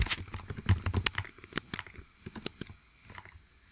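Close, quick keystrokes on a computer keyboard in uneven bursts of clicks and taps, dense at first and then thinning to scattered presses, with no talking.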